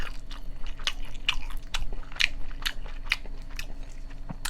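Someone eats a convenience-store triangle kimbap with broth, making a rapid series of crisp, close crunchy bites and chewing, alone without talk.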